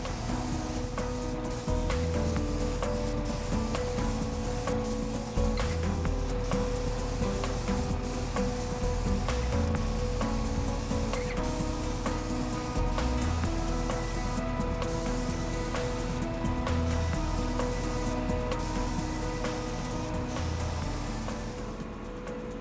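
A steady hissing spray from a spray gun applying coating runs continuously with faint mechanical ticking and a low motor hum, close and even throughout.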